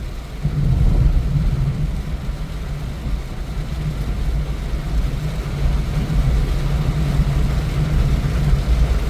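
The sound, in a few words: car driving at night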